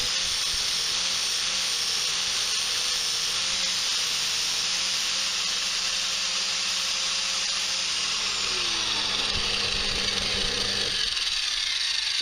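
Angle grinder fitted with a flat disc grinding down a small petrol pump pin, a loud steady high-pitched grinding whine held for about eleven seconds before cutting off abruptly.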